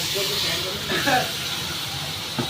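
Morola fish curry hisses and sizzles steadily in a hot wok right after a little water is added, a close continuous spitting hiss with faint speech underneath.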